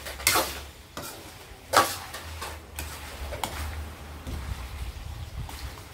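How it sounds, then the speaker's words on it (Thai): Thai pork rinds fry in rendering oil in a pan and get stirred, with close scraping strokes and clicks recurring every second or so over continuous soft sizzling and a low hum; nobody speaks. "คนไปเรื่อยๆ"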